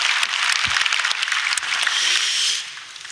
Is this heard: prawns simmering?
no